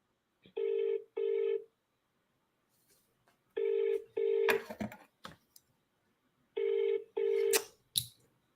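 Telephone ringing during a call: three pairs of electronic ring tones at steady intervals, each pair followed by brief clicks and handling noise, heard close and clear with no voice.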